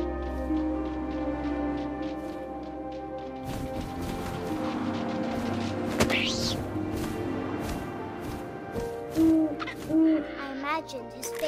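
An owl hoots in the video game What Remains of Edith Finch; a few low hoots come late, over a layered game soundscape with a sharp crash partway through.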